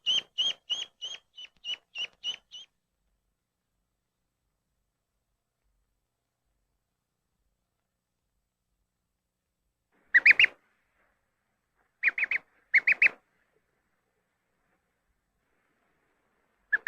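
Duckling peeping in a quick run of about eight high, bright calls, then long silence before a few sharper, louder peeps in short bursts.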